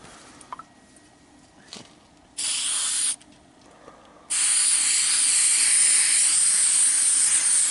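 Aerosol can of spray glue sprayed onto a boot: a short hissing burst, a pause, then a longer, steady hiss that runs to the end, with faint background sounds before it.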